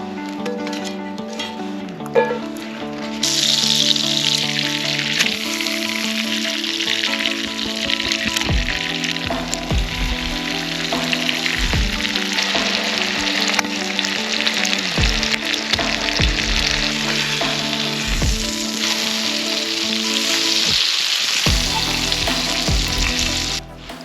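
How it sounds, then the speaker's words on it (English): Steak sizzles and spits as it grills over a campfire in the snow on a winter camping trip, a loud continuous frying hiss with crackles, soft clinks and brief dips, close and steady with no talking. "I'm gonna get this fire situated so I can cook on it, and I'm gonna get this this steak grilling"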